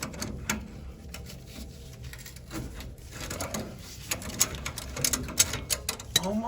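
A pipe threader cuts threads onto heating pipe during boiler pipe replacement, giving an uneven series of close ratcheting clicks and metallic scraping at moderate volume, growing sharper toward the end.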